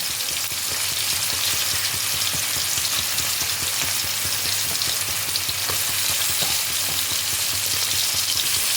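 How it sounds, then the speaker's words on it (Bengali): Vegetables and eggplant fry lightly in oil for a vegetarian lau shak dish with motor dal, a steady dense sizzle running evenly throughout with faint scraping of stirring, close and continuous with no talking. "সবজিগুলো তেলে হালকা ফ্রাই করা হয়ে গেল।"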